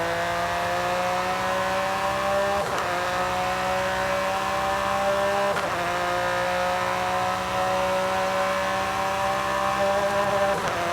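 A supercar engine in Forza Horizon 5 screams at its 183 mph top speed in sixth gear on a long straight, a loud sustained high-pitched whine with brief dips as it strains for more speed.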